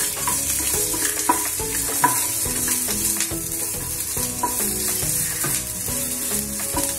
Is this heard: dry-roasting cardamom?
yes